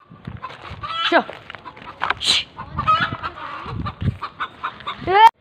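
Chickens cluck and squawk close by in agitated bursts, with a rooster-like call near the end and some voices in the background.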